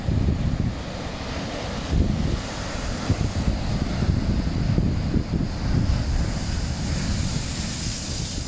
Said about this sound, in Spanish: Impresionante, pero con olas importantes.